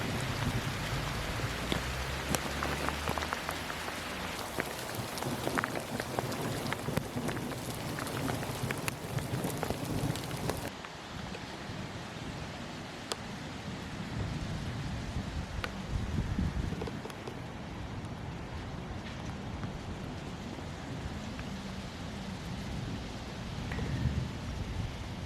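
Heavy rain pouring down at a motorcycle campsite, a dense continuous roar of drops on surfaces with low rumbling underneath, steady throughout with a shift in texture partway, and no talking.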